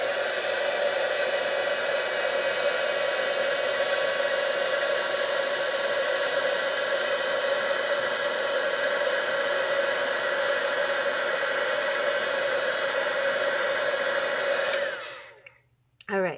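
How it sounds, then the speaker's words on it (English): Heat embossing tool blowing on embossing paste on a card, a loud, steady whirring hiss running continuously before cutting off abruptly near the end. "we're going to grab our heat tool now"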